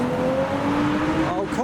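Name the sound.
Toyota Supra car driving past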